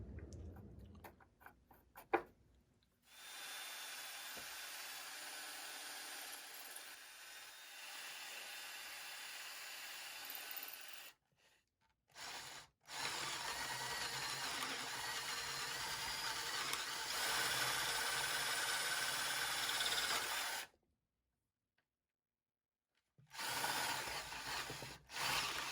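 A brad point bit drills pilot holes into a wooden table base, with steady grinding bursts of drilling broken by short pauses, close and fairly quiet.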